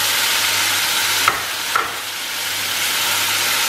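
Tomato puree sizzles and fries steadily in a hot pan with ginger while making malai kofta, a constant close hiss broken by two brief stirring clatters partway through, with no talking.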